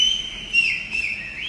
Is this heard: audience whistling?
yes